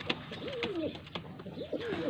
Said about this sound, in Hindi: ये जनाब दूसरा कबूतर है